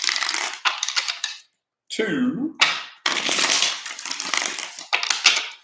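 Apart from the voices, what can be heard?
shuffling tarot cards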